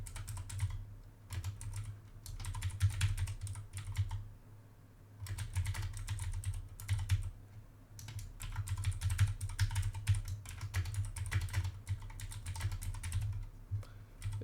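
Computer keyboard typing, close and quiet, in bursts of rapid keystrokes broken by short pauses, with a steady low hum underneath.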